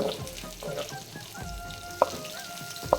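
Sliced onion sautéing in hot oil for chicken gravy, a close, lively crackling sizzle with stirring scrapes and two sharp utensil taps near the end.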